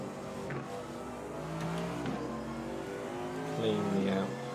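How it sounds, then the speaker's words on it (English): A race car in the iRacing sim at the Bathurst 12 Hour revs and shifts through gears, engine pitch rising and falling steadily with a second car's motor growing closer behind; a driver speaks over it. "Watch your mirrors, there's a car approaching"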